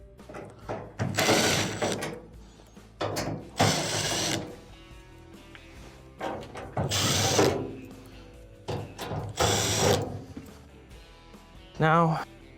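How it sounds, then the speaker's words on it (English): Phillips screws being backed out of the front panel of an LG dryer with a ratcheting driver, several bursts of clicking mechanism noise separated by pauses, close and fairly loud. "Now, you'll have to remove these Phillips screws on the front."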